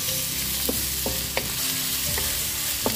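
Tomatoes sauté in a pan under a steady bright sizzle, with a spoon scraping and tapping at the pan every half second or so, close and without any talking.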